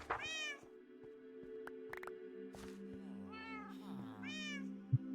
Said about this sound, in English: Those are the chattiest cats you've heard